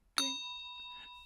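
A short, bright notification bell ding strikes once and rings out, its clear tone decaying slowly over about a second, alone with no talk.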